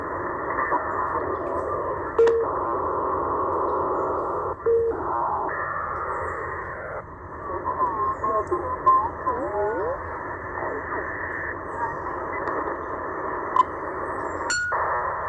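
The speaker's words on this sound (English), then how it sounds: "what you're hearing there is a high frequency data link" A buzzing, warbling high-frequency data link radio transmission, received between 8000 and 9000 kHz, hums steadily through band-limited static, with shifting tones and brief bursts over about fifteen seconds.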